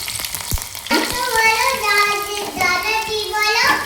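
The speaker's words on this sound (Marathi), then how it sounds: "जिऱ्याला छान असं तडतडू द्यायचं आणि नंतर असं मोठ्या आकारामध्ये लसण ठेचून घेतली" Cumin seeds crackling in hot oil, then crushed garlic dropped in, making a loud, steady sizzle with spitting pops close by; a voice is faintly heard at one point.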